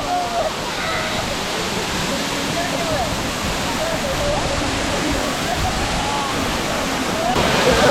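Anachadikkuth waterfall at Thodupuzha, running lower after the rains ease, gives a steady, full roar of falling water that fills the whole scene without pause, with no other sounds standing out over the constant rush.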